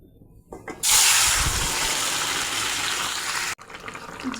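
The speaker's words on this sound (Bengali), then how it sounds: "বাকি জিরা আর তেলের মধ্যে তরকারিটা ঢেলে নেব।" Fish curry made with green tomatoes is poured into hot oil with cumin, bursting into a loud, rushing sizzle that holds steady for a few seconds before cutting off.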